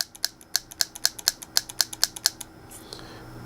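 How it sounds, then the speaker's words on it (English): A paintball marker's solenoid fires as the trigger is pulled, giving a quick series of about a dozen sharp, crisp clicks at an even rhythm, close up, and then quiet. "I'll pull the trigger, and you'll hear the solenoid click."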